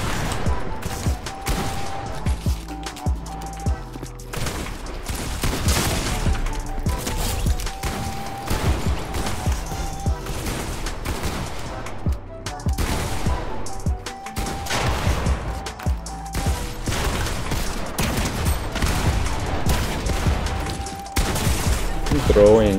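Gunfire in a video game played with a keyboard crackles almost nonstop, rapid automatic bursts and layered shots filling the whole stretch at loud, close range with busy game noise beneath.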